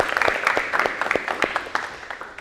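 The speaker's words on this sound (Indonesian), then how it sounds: "kita berikan aplaus ke kelas TKR 2" A classroom of vocational students claps for class TKR 2, a quick run of sharp, closely spaced claps that gradually thins out and fades.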